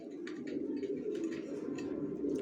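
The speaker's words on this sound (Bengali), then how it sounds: "কবুতর দেখাবো আপনাদেরকে।" Racer pigeons coo softly in a low, continuous murmur, faint and close, with light scattered rustling over the soft cooing.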